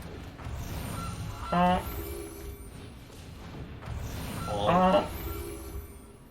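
A person imitates a goose, giving two short nasal honks a few seconds apart over a quiet room murmur during a card game.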